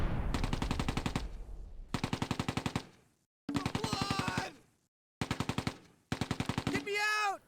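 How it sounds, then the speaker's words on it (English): Machine gun fire in the Close Combat video game, five separate rapid rattling bursts, each lasting about a second or so with short gaps between, the last ending in a descending whine. "We're under heavy fire."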